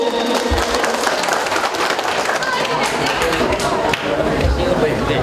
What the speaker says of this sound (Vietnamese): Xin quý vị một tràng pháo tay